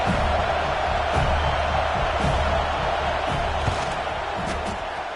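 A stadium crowd at a Florida State football game roars steadily through a field goal attempt, a broad, continuous wash of cheering and noise with scattered louder whoops.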